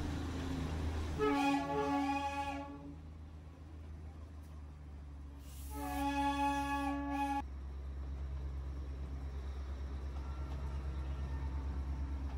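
The Darjeeling toy train rumbles along its mountain line and sounds two loud, sustained horn blasts, the first early and the second midway, over a low continuous running drone.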